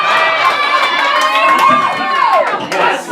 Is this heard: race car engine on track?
no